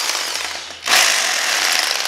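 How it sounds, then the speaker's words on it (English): A rotary hammer with a masonry bit drills into a concrete floor, its hard rattling hammer action kicking in loud and close after a short lower-level stretch, then pounding steadily to the end. "Rotohammer pretty much is a, it rotates like a drill."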